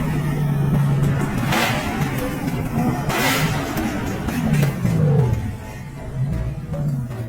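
A car pushed hard through an urban area, accelerating up to 148 km/h, its engine roaring steadily and rising in pitch as it gains speed, loud and close with a brief surge midway.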